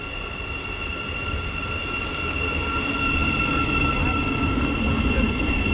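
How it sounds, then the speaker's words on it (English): Thameslink Class 700 electric train, unit 700013, pulling into a station on the East Coast Main Line, a steady rumble with a high electric whine that grows slightly louder as it arrives, no talking. "arriving here now is the 1351 Thameslink service to Cambridge from London King's Cross"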